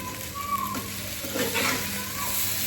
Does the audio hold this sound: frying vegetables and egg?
yes